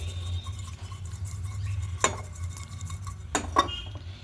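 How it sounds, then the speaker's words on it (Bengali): Boiled eggs being mixed with salt and turmeric in a metal bowl, with soft stirring rubs and a couple of sharp clinks of utensil against the dish, close and quiet without talk. "এবার ডিমটাকে মাখিয়ে নেব।"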